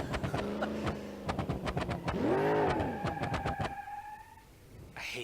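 A car engine in BeamNG.drive revs up and down in a rising and falling whine with a harmonic buzz, loud and close, then settles to a steadier hum near the end, with no voices over it.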